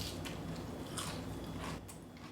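Crisp crunching bites into a cheesy nacho tortilla chip, short bursts of crackle, close and fairly quiet, repeating a few times over about two seconds.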